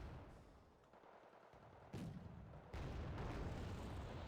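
Fire support from an MA-17 in the strategy game Wargame Red Dragon: a dull distant boom near two seconds, then a heavier burst near three seconds, over a low continuous battlefield rumble.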